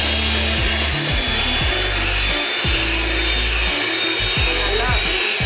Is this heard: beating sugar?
yes